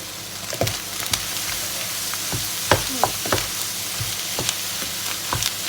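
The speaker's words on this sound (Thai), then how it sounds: "ไม่ต้องรอให้สุกมากเราก็เติมผัดลงไปเลยนะคะ" Fried rice with nam sausage stir-fried in a pan, a constant sizzle broken by repeated scraping and tapping strokes of a spatula at an uneven rhythm, close and fairly loud.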